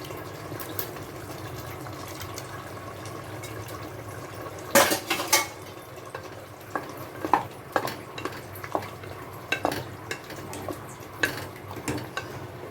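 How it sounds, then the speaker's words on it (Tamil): Beef cooking in oil with onion masala in a pot for beef biryani, heard as scattered metal spoon clanks and scrapes against the pot over a faint, low sizzle. "கறி போட்டு வச்சுருந்தோம் வெந்துக்கிட்டு இருக்குது பாருங்கள்"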